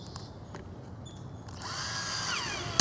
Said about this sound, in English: Now we're going to drill 4 more holes,